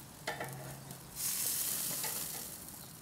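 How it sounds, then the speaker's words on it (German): Bifteki patties sizzle on the indirect zone of a grill, a steady bright frying hiss that swells after a brief clatter and holds at moderate volume. "dann schnappen wir die Bifteki und legen sie jetzt hier oben auch in den indirekten Bereich"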